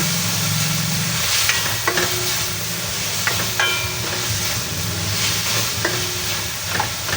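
Tomatoes cook down in a pan for chicken Bicol Express, giving a steady, loud sizzle with occasional light clinks of a utensil and no voices.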